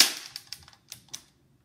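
A toy Nerf gun fired with no darts loaded, one sharp click followed by several quick light clacks of the mechanism, close and brief, then silence.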